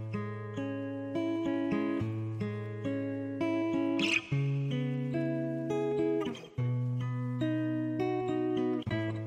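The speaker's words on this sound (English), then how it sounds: "I play this guitar. It sounds like this." Guitar melody played as part of an Afrobeat beat, with bright plucked notes moving over sustained low tones in a steady, looping rhythm that fills the whole stretch alone, without talk.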